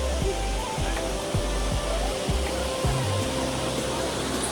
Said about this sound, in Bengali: কি ঝর্ণাটা আসছে ওই উপর থেকে, খুব একটা বড় না, বাট খুব সুন্দর